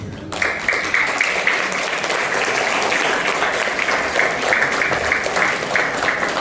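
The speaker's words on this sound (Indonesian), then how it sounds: "Kita berikan lagi tepuk tangan buat frater yang sudah memberikan motivasi semangat buat kita." Schoolchildren and adults gathered at a friary's central house clap loudly for a brother who gave a motivational talk, a thick, continuous round of applause that starts abruptly and holds strong without voices over it.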